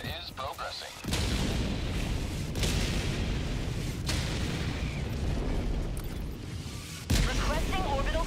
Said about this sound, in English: Requesting orbital. Firing orbital barrage. Clear the area.